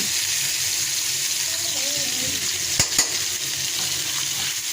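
Shol fish frying in a hot pan gives a steady, dense sizzle that runs throughout, with a couple of brief clacks near the end and a faint voice low underneath.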